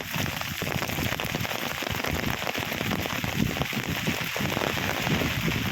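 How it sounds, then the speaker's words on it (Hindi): Heavy rain pours down over Bhavnagar, Gujarat, a dense, steady hiss of drops on surfaces that holds loud and unbroken throughout, with no voices. "भावनगर शहर और आसपास के इलाके में धुआंधार बरसात दर्ज हो रही है"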